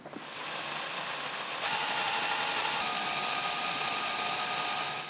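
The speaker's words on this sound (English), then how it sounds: "after drilling through that aluminum, you'll have some burrs on the edge" Steady, loud whine of a power drill cutting through aluminum, running continuously for several seconds with a slight rise in pitch partway through and no talking.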